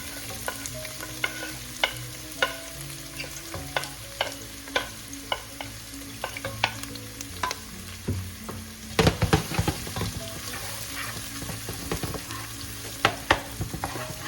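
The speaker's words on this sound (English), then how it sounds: "we'll start sautéing our aromatics here with our onions, or garlic, onions, and celery" Onions, garlic and celery sauté in a pot for a Filipino chicken glass noodle soup, with a steady crackling sizzle and regular utensil clicks and scrapes as the aromatics are stirred.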